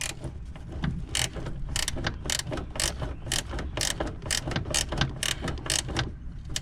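A flex-head ratcheting wrench clicks rapidly on steering column screws of a 1970 Chevelle, a close, rhythmic run of sharp ratchet ticks in repeated bursts with no talk.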